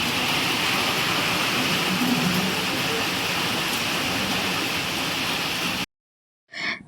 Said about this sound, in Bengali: আর এই যে বাইরে হচ্ছে বৃষ্টি।